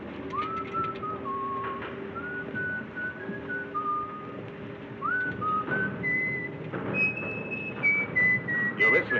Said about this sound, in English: You're whistling, sailor.